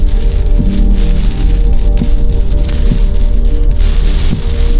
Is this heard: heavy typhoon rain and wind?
yes